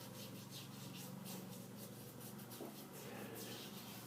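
Proraso White shaving cream being rubbed onto a face with the hands, a soft continuous rubbing and lathering hiss, close and steady, with no talking.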